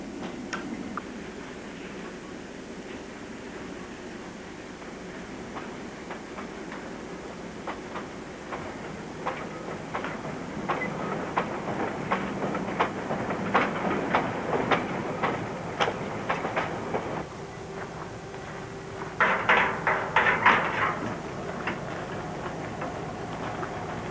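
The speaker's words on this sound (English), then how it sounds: "In the yard, incoming trains are broken up and wagons dispatched to destinations all over the North" Freight wagons roll slowly past in a rail yard with a rhythmic clickety-clack and metallic clanks and squeals, steady and moderately distant, no voices.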